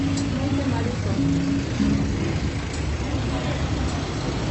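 Busy street traffic rumbles in Cuernavaca Centro, Mexico, with buses and cars passing close by as a continuous loud roar and occasional engine drones, while voices talk nearby.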